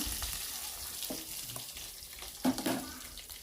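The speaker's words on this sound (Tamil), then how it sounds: "வெங்காயம் வந்து நல்லா கண்ணாடி பதம் வர வரை நல்லா வதக்கிக்கலாம்." Sliced onion sautés in oil with fennel seeds and curry leaves for an egg gravy, making a soft, faint frying crackle with a few light stirring clicks and scrapes near the end.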